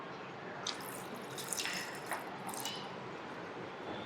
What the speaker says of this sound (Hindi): सबसे पहले हम इसमें डालेंगे पानी।